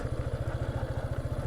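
A Yamaha FZ V3 motorcycle with small, low-grip tires runs over a rough, slippery road, its engine giving a steady, rapid low-pitched pulsing thump with some rattling clatter throughout.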